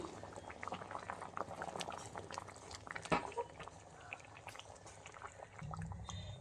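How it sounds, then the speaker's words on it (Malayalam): A Kerala fish curry of sardines with mango and green tomato bubbles steadily in a covered pot, a soft continuous boil with small pops, one sharper clink partway through and a low rumble near the end. "ഈ മീൻ തിളച്ച് വരുമ്പോൾ തുറന്നിട്ട് നന്നായിട്ടൊന്ന് കറക്കി വെച്ച് കൊടുക്കണം."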